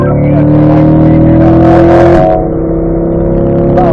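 A car at the Ron Fellows Performance Driving School accelerates hard down the straightaway, its engine droning loud and steady with a rising pitch, then briefly easing before pulling again.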